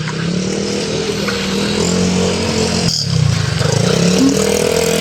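Motorcycles and cars crawl through a flooded street on Quirino Avenue in Manila, with a steady engine drone and one motorbike revving nearby toward the end.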